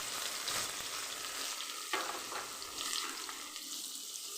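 Black cumin (kalo jeera) and other spices frying in oil in a kadai, a steady close sizzle with light stirring scrapes and a faint watery hiss running throughout, no voices.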